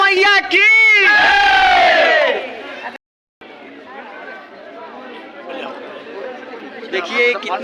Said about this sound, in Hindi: भीड़ है माता रानी के दरबार में।